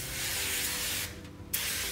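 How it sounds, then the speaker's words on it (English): Cooking spray hissing onto cut jackfruit in a kitchen, two close bursts of steady airy hiss split by a brief pause, the second starting with a soft click. "And then we're gonna spray the jackfruit too."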